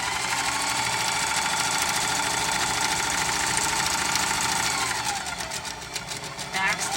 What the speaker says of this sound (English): We're going to back stitch. We're going to sew all the way down.